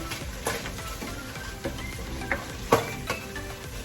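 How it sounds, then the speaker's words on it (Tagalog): Oil sizzles steadily in a pan while corn and shrimp are sautéed, a low crackling texture with a few sharper clicks and stirring knocks, close and moderately quiet, with no talk. "Narinig nyo ang tausik ng ng mantika."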